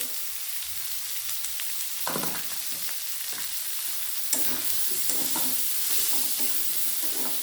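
Crab masala with salt, turmeric and chili powder sautéing in a pan, a continuous hiss of frying with occasional soft scraping stirs, close and steady, without speech.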